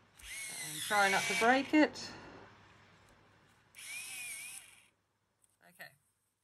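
An electric sharpener grinding a colored pencil, with short whirring bursts mixed in among a person talking at close range.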